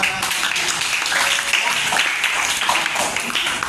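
Students in an Indonesian classroom lesson on social change clap together for a classmate's question, a dense, steady patter of many hands filling the room for a few seconds.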